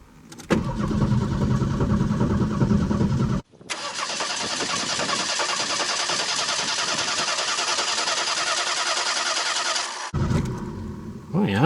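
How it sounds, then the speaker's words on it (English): A 1989 Ford Mustang, sitting unstarted for eight years, cranks steadily for several seconds, then fires and runs at a loud, continuous roar close by, with a voice speaking briefly at the start and end. "Oh yeah, she's cranking real good."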